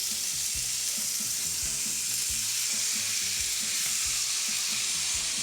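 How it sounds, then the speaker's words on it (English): Loud, steady sizzling of chicken frying in a hot oiled grill pan fills the whole stretch, crackling continuously with no talking. "Grill pan is hot. I'm gonna give it a little drizzle of oil. I wanna hear that sizzle."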